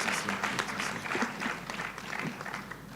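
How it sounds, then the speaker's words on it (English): An audience at a business conference for small and medium enterprises claps together in a sustained burst of applause, fairly distant and even throughout. "Let's clap for that, please."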